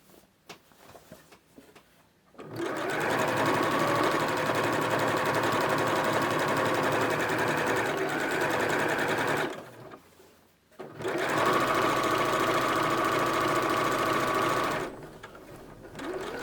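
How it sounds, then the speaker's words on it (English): A sewing machine hems the bottom of a summer cami top with a rolled hem foot, running in two long steady bursts of loud, even whirring separated by a short pause. "To hem the bottom of the top, I'm using a rolled hem foot."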